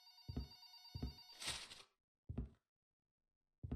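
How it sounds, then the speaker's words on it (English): In the video game Just Cleaning, a telephone rings in short, sharp repeated bursts with brief gaps between them, clear and close, with no talking. "I ain't picking up the phone."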